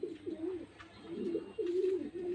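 Breeding pigeons at a farm coo in a run of low, rolling, throaty calls close by, one overlapping another with brief pauses between.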